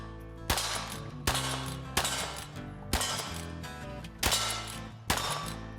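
Sharp, loud gunshots from Winchester rifles and six-shot revolvers at a Wild West cowboy shooting contest in Louisiana, about six reports at irregular intervals, each with a ringing tail.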